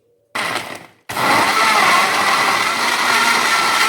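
A blender whirs loudly and steadily, mixing a strawberry milkshake with ice cubes; after a short first burst and a brief pause, the motor restarts and runs continuously at full roar.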